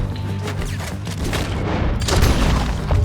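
Gunfire from the Red Dead Redemption 2 video game, a dense rumbling burst of loud shots and booms rolling together over a few seconds, close and forceful with no voices.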